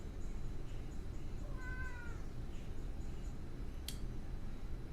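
A male house cat meows near a computer during a stream; a single short, faint meow over steady room noise, followed by a brief click.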